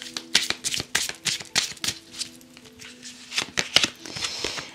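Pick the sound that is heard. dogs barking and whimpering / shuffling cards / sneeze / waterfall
shuffling cards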